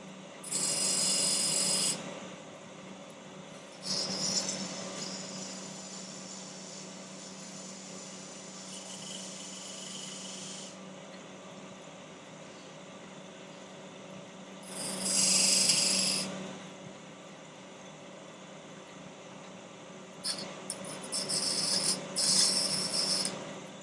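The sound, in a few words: spindle gouge working wood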